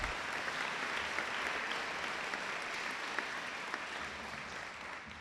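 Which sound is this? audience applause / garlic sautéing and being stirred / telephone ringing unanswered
audience applause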